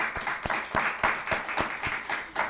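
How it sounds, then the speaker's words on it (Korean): A church congregation applauds in welcome steadily for a couple of seconds, many hands clapping together in a dense, moderately loud burst. "우리 환영의 박수"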